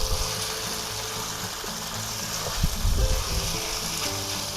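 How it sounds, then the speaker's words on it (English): Thin strips of beef stir-frying quickly in a pan, a steady hiss of sizzling with a few louder clatters and tosses midway. "Now we're going to stir fry this quickly."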